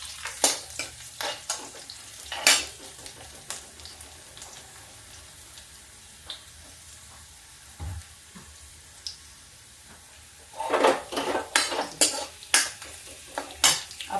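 Garlic with a little green and red chili fries in a pan, a soft sizzle running under intermittent spatula scrapes and clinks against the metal, with denser bursts of stirring toward the end.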